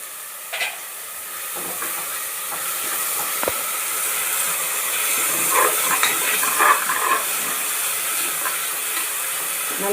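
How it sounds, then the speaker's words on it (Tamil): Curd stirred into masala of tomato, onion and ginger-garlic paste sautéing in a pan for mushroom biryani, a steady hissing sizzle with occasional spoon clinks and scrapes, close and continuous. "எடுத்து வச்ச தயிரையும் இதோட ஒன்றா சேர்த்து வதக்கிடலாம்."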